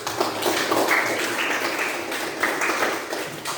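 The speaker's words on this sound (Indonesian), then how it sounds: "Tepuk tangan dulu." Students in a secondary school classroom applaud together, a soft, blurred patter of many hands at moderate distance, with a few brief voices in the background.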